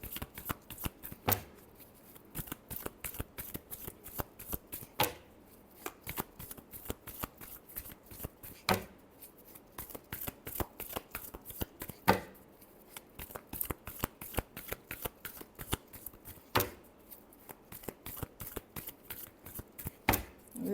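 A deck of tarot cards being shuffled by hand during a reading, with quiet, fast riffling and crisp card flutters repeating in short bursts, each broken by a sharper snap as the deck is squared.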